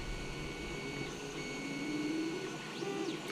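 A Creality Ender 3 3D printer runs alone at low level, giving a steady mechanical hum with faint, shifting stepper-motor whines that rise and fall.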